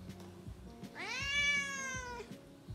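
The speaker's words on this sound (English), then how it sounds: "You are meowing loudly." One long, loud meow from a cat rises and holds for about a second, close up indoors, with soft ticking background noise around it.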